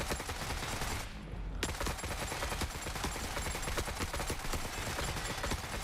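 Rapid sniper and automatic gunfire rattle through a battle in the video game Forever Winter, dense cracking shots over a constant loud din with a brief lull near the start.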